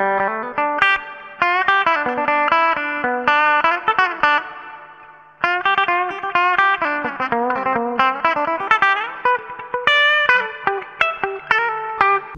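Fender Player II electric guitar through heavy distortion, a run of picked single notes and short phrases with a slightly nasal tone, close and alone, ringing with light reverb and a brief pause midway.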